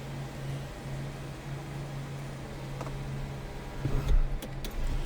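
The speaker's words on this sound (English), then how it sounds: "power sunroof is working" The power sunroof of a 1994 Buick Regal GS sedan runs with a steady low electric motor hum for about four seconds, followed by a few clicks and thumps as it stops.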